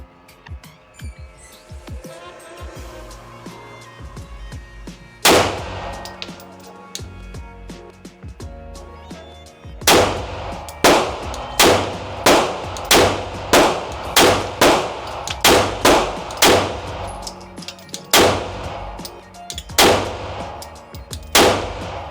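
Rapid string of loud, close Glock 19 pistol shots fired at an outdoor range, one sharp report near five seconds and then a steady volley of about a dozen evenly spaced cracks, with some ringing clangs from steel targets.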